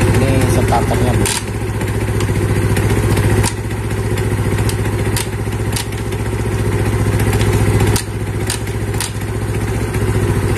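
A noisy Yamaha Mio Sporty scooter engine runs close by with a steady rattling idle, and a few sharp knocks break through the running sound.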